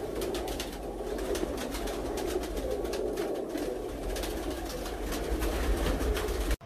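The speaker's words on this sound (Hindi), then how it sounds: "ये सब के सब प्योर टेडी ब्रीडर कबूतर हैं" Pure Teddy breeder pigeons, all males, coo steadily throughout a large loft, a dense overlapping murmur of many birds close by with no talk over them.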